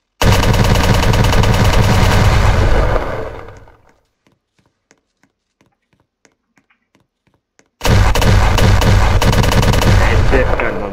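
Hex Spitter fire in a video game, a loud rapid-fire burst running for several seconds, fading into near silence with faint scattered clicks, then another loud sustained burst.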